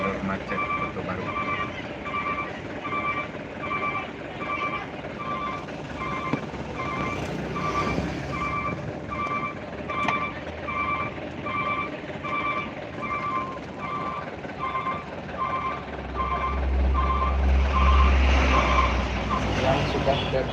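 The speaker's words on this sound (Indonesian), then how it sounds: "inilah jalan macet Kota Baru Kayutan 2 menjelang pasar Kota Baru" Slow congested traffic crawls along the road through Koto Baru toward Bukittinggi, a steady low engine hum with a repeating warning beep throughout and a heavier vehicle rumble swelling near the end, while someone narrates over it.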